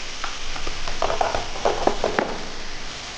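Chicken frying in a pan with salt, chili powder, turmeric, garlic and ginger paste, a close, steady sizzle with soft crackles and a few brief stirring scrapes, no voices.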